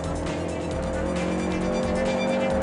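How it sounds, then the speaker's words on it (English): Honda Civic Type R driven hard through a race-track corner, its engine droning steadily and loud with faint tyre scrub as it sheds speed in understeer and gets back on the power. "Roll into this corner here, washing off a bit of speed with a bit of understeer, slowing the car down, turning it, back on the gas."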